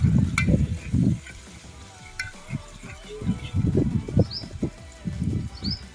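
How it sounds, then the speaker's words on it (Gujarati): Sliced onions fry in oil for a Gujarati oro dish, stirred in uneven bursts of scraping and shuffling over a low, steady sizzle. "એક મિનિટ પછી પાછું હલાવ્યું"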